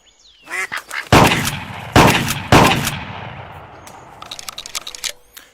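Ducks quack and honk amid loud, sharp shotgun blasts in the Clay Hunt VR hunting game, with three big shots followed by a fading tail and then a flurry of scattered quacks.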